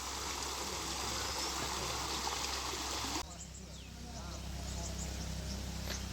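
A river flows beside the Sabarimala forest trail on the Erumeli to Pamba pilgrimage route, a steady broadband rush of water that drops a little quieter partway through, with faint insects and some background voices.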